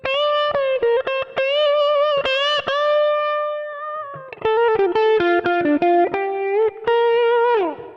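Electric guitar through plate reverb playing sustained, gliding notes with a wide, shimmering reverb tail, loud and continuous, with brief picked attacks between held tones.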